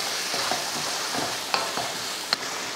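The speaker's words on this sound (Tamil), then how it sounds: "நல்லா வதங்கட்டும்." Tomato masala paste with peas sautéing in a pan as a steady close sizzle, with a few soft stirring scrapes and light clinks of a spoon against the pan, heard alone without speech.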